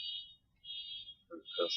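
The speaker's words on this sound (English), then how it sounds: "Someone's car alarm is going off, guys." An electronic alarm from outside sounds in repeated high, steady beeping bursts with short gaps, moderately loud, while a voice speaks briefly over the last part.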